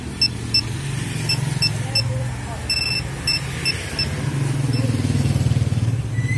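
A two-way car alarm fitted with a big horn sounds in short, evenly spaced high beeps over the steady low rumble of a running engine nearby, with faint voices underneath.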